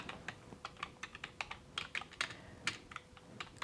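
Fast, quiet tapping on a computer keyboard while entering a command during a PS3 console repair, irregular clusters of close key clicks with brief pauses.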